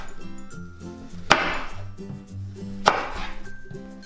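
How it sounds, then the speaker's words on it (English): A knife chops apple into chunks on a cutting board, with two sharp, separate knocks standing out over quiet background music. "Place your apple with the flat side down and then make your slices."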